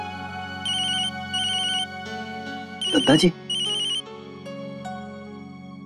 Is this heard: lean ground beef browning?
no